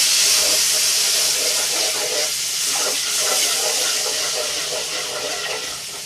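Milk poured into browned chicken paratha filling in a hot pan sizzles and hisses loudly and steadily, close up, easing slightly toward the end.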